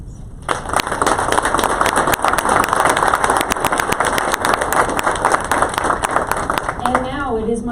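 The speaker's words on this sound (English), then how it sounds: "Please join me in a round of applause for our veterans." Audience applause for veterans at a TSA Veterans Day ceremony, a loud, dense burst of many hands clapping that swells quickly and holds steady for several seconds before starting to fade.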